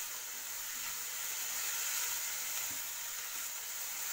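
Steady sizzling of vegetables stir-frying with vinegar, soy sauce and chili sauce for restaurant-style chicken fried rice, a continuous bright hiss with faint utensil movements, no voices.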